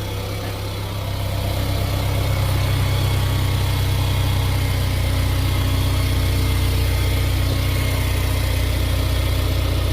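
A Mercedes CLA 250 AMG engine idles steadily up close after a coolant fill, a constant low rumble and hum that holds level throughout with no voices.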